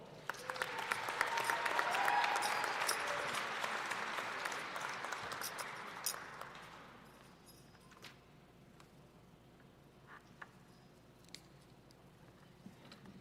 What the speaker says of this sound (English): Let's give a big round of applause to our associate degree graduates